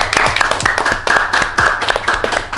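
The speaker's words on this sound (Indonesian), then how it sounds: "Tepuk tangan dulu ya." Audience clapping at an Indonesian virtual event, a dense run of hand claps from many people, steady and fairly loud throughout with no talking.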